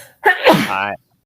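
A single loud, close sneeze, a sharp intake followed by a forceful voiced burst, then silence.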